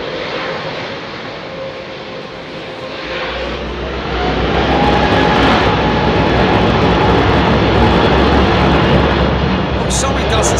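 An airliner departs London Heathrow Airport on a windy day, its jet engines building into a loud, sustained roar that grows stronger midway and stays heavy. Wind buffeting adds rumble underneath.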